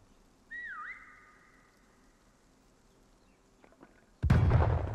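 A prop's taunt whistle in the video game Prop Hunt sounds as a clear tonal whistle with a pitch dip, then a few faint clicks before a loud sudden blast of noise.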